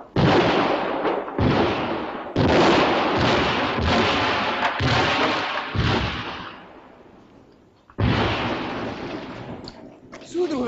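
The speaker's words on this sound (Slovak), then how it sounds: "Začali páliť do svojich. Granáty ničia nemecké zákopy." Artillery shells fire and explode in a 1972 war film battle scene: heavy, booming blasts come in separate bursts, each roaring and then decaying. Long loud stretches are broken by brief gaps, and voices are faintly present.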